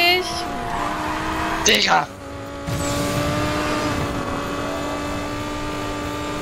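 A car pulls away in Need for Speed Payback multiplayer, with a steady engine drone, a brief squealing swoop near two seconds, then a renewed engine roar, while a man exclaims loudly near the start.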